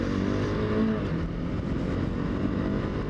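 A motorcycle engine rumbles steadily and close up as the rider rolls through a roundabout, with small throttle blips swelling slightly over a constant drone.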